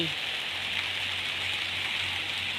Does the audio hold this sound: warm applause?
no